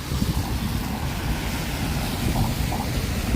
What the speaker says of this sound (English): The steady rain just keeps falling.